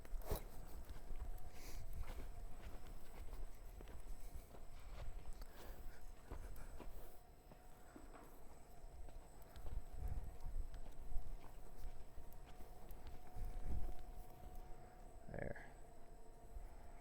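A horse walking on firm ground during groundwork training, its hooves clip-clopping steadily at a moderate distance through most of the clip amid low outdoor background noise.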